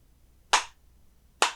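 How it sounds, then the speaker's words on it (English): Two sharp, isolated hand claps land almost a second apart in a slow, deliberate rhythm, each one crisp and close with near silence between them. "Is that a slow clap?"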